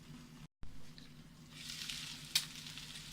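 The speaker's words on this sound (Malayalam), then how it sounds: "ഈ ബീഫൊക്കെ ഒന്ന് ഡാർക്ക് കളറാകണ വരെ നമുക്കൊന്ന് ഫ്രൈ ചെയ്തെടുക്കാം." Beef frying in a pan, a steady soft sizzle that brightens and thickens after a brief dropout, with one sharp clack partway through and no talking.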